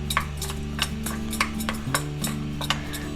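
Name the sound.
mixing ground spice powder into yogurt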